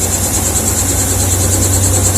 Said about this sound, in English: looking at the helicopter that just landed a few moments ago. Looks like he might be trying to take off again.